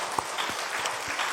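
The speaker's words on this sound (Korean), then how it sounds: "우리 하나님께 영광의 박수 한번 올려드리겠습니다." Church congregation applauding during a Korean Sunday worship service, a short burst of dense, steady clapping with a few sharper claps standing out.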